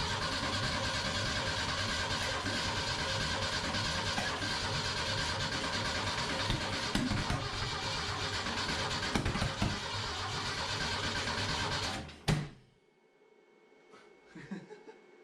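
A project truck engine built into a Ford Econoline with a 240 cranks and churns loudly and continuously for about twelve seconds during starting attempts, then cuts off abruptly into near silence with a few faint knocks.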